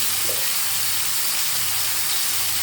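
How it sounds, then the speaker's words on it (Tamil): Ground tomato and onion sauté in oil over a low flame, giving a steady, even sizzle that runs unbroken throughout, close and moderately loud, with no voices. "தக்காளி வெங்காயம் நல்லா வதங்கணும், எண்ணெயிலே வதங்கணும், பச்சை வாசனை போகணும்."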